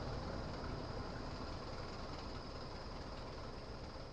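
Rolling train sound as the Ranchi Rajdhani passes behind a WDJ6G locomotive, a steady, loud, broadband rumble with continuous wheel and rail noise throughout, no voices.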